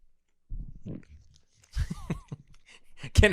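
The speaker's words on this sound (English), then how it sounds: "I wanted to listen to him chew" A person chews food close to a podcast microphone, giving soft, irregular bites and mouth noises with a sharper crunch near the end, broken by a brief murmur of voice.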